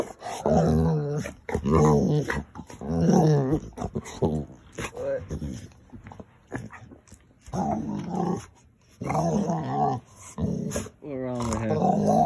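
A dog in the middle of a seizure growls and whimpers in uneven bursts, with people talking over and between the sounds throughout.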